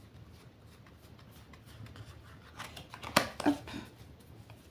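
Oracle cards being shuffled by hand, a couple of quick riffling bursts near the end after quiet handling, with a brief spoken word.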